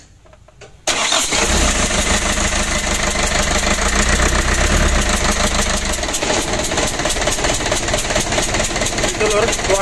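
After a short quiet moment, a 120 PS diesel engine with a leaking injector nozzle is started and catches at once, then runs loudly at a steady idle with a harsh, rapid knock.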